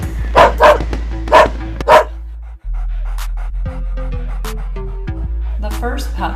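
A new puppy named Bo pants in several loud, close bursts, then gives a few short, sharp yips over a steady tonal background.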